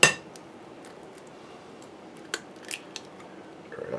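An egg cracked against a bowl for homemade noodle dough for chicken soup: a sharp tap at the start, then a few quick, close cracks and clicks later on over a quiet kitchen background.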